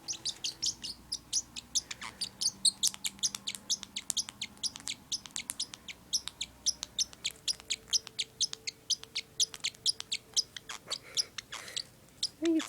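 A featherless pet bird on a bed chirps rapidly and repeatedly, high thin tweets in a busy, steady stream, close by and moderately loud.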